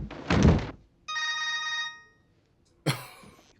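A mobile phone rings in a crime film scene, a steady harmonic ringtone lasting under a second between a loud thud before it and a sharp knock after, with no one speaking.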